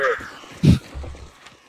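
Crows cawing in the Hunt: Showdown video game, a cluster of harsh caws with one loud burst near the middle over quieter ambient game sound.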